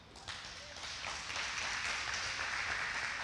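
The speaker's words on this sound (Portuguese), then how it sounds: "Queria que você aplaudisse Deus na vida do Pedro." Congregation in a church applauding together, a steady, even wash of clapping sustained throughout with no talk over it.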